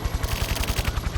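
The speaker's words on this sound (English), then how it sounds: "Looks like there's gonna be fireworks." Rapid repeated pops of fireworks going off during the final parade in the video game The Silver Case, a dense rhythmic crackle of bursts with deep thumps, fairly loud and without speech.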